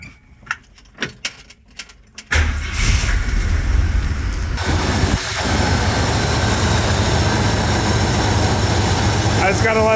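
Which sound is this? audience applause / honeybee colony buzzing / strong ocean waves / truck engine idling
truck engine idling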